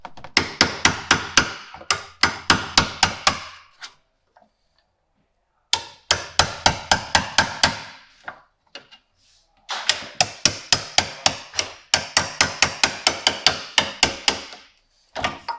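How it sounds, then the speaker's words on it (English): A hammer drives a 1-inch wood chisel to clear out material, in sharp, close, loud blows arriving in rapid bursts of about eight to ten strikes, separated by short silent pauses. "So I'm just using a 1-inch wood chisel to take out this"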